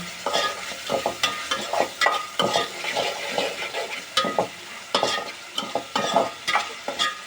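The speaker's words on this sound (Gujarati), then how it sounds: "તો હવે આપણે એને હલાવી નાખશું" Tomatoes being stirred into a pan of Lepta sea-fish curry: repeated scraping, clattering strokes of a spoon against the pan over a steady sizzle, close and fairly loud, with no talking.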